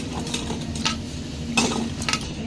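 Onions being tipped into a pan for egg-stuffed onion fritters, heard as a few close clattering knocks and scrapes of spoon and cookware against a faint steady background.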